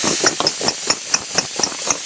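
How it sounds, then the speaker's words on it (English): Air hisses steadily out of a motorcycle tire inner tube at close range while a rim lock is tightened, the hiss punctuated by a regular series of sharp ticking clicks about four per second. "I'm gonna let air out of the tube while I tighten up the rim lock"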